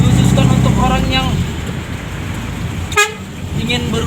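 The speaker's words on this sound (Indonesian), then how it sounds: "Namun ini dengan suara klakson yang telolet ini sangat keren guys." Telolet musical horn on a modified Mitsubishi L300 van, a short melodic honk sounding near the start and again briefly later, with road noise and a voice talking in between.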